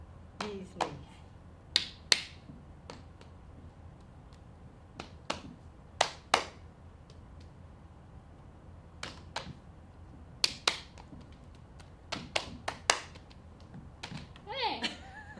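Hand claps during a seated dance exercise for people with Parkinson's, sounding as scattered, sharp, fairly close slaps in loose pairs over about fifteen seconds, with a voice briefly heard near the end.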